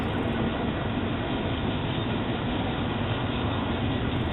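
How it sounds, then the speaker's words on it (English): A Union Pacific intermodal freight train descending Beaumont Hill toward Indio rumbles past in a steady, loud wash of rail and wheel noise that stays constant from start to finish, with no voices. "This intermodal is now beginning the descent into Indio"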